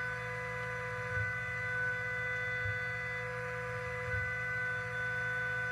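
A CNC mill machines a mold cavity with a 1/32 inch ball end mill spinning at 30,000 RPM, giving a steady high whine and hum with faint periodic pulses, continuous and even throughout.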